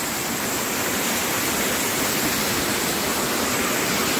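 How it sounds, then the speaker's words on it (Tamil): Steady, loud roar of the Hidden Falls waterfall near Honnavar, Karnataka, a dense continuous rush of falling water filling the whole clip with no voices. "நல்லா இருக்குது ஃபால்ஸ்."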